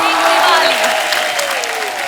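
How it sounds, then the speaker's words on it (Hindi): A studio audience at a comedy talk show claps loudly to welcome a guest onstage, while a host's voice and a descending musical tone run on top of the applause. "आप सबकी जोरदार तालियों के बीच please welcome mister Ajay Devgan."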